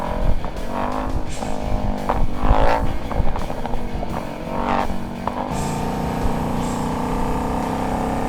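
Supercharged 2025 Ford Mustang Super Venom on a Dark Horse chassis, rated at 850 horsepower, its engine rumbling loud and close with several sharp revving surges before settling into a steady, heavy idle.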